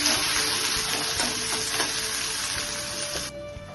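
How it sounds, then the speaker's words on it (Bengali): Onions frying in a pan for Bengali cholar dal after capsicum has gone in, a steady, close sizzle with occasional stirring scrapes and no voices, cutting off abruptly near the end. "দিয়ে আমি এবারে এখন পেঁয়াজগুলোকে ভেজে নিচ্ছি"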